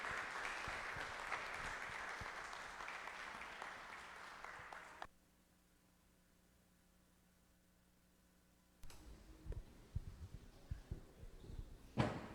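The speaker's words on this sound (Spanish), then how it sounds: "Así que un aplauso para Roberto Guzmán Fernández" Audience applause at a 2023 symposium for a speaker being introduced, a dense wash of clapping for about five seconds that cuts to near silence, then a few scattered sounds and handling noises.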